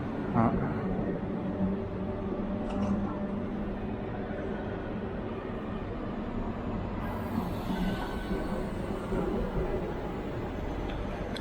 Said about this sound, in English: now the train is leaving